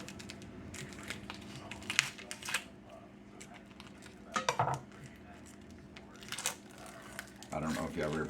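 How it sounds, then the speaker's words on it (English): A frozen pork butt is pulled free of its plastic wrap in a kitchen, giving intermittent close crinkles and crackles in short bursts, with a louder rustle near the end. "Let me see if I can get this big bad boy unwrapped."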